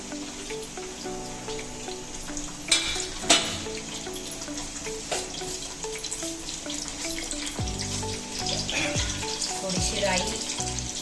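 Onion hitting hot oil in a pan with curry leaves and chillies for a Malvani jackfruit vegetable, a loud steady sizzle with sharp crackling bursts and occasional stirring scrapes, close by and free of talk.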